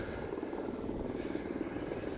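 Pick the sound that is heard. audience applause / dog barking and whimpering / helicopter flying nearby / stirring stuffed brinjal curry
helicopter flying nearby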